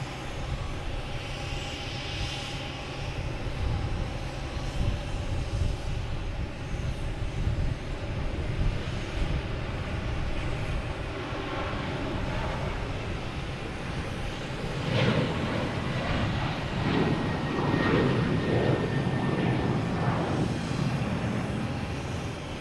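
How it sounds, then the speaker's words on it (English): WestJet airliner taking off from Boston Logan Airport, bound for Vancouver: a continuous, moderately distant engine roar that swells noticeably in the latter part and then holds. "And we got a WestJet heading to Vancouver."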